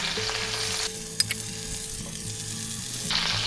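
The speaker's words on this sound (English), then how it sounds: "let's take our garlic cloves and we'll put them in there." Garlic cloves and butter sizzle loudly in a hot pan set to medium heat beside a flat iron steak, a dense crackling hiss with a couple of small clicks from the pan.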